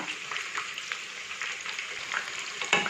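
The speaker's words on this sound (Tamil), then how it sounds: "நல்லா மீடியம் ஃப்ளேமில் வச்சு ஃப்ரை பண்ணுங்கள்." Marinated chicken 65 pieces deep-fry in hot oil over a medium flame, producing a continuous bright sizzle with crackling pops and occasional stirring clinks, close and fairly quiet, with no voices.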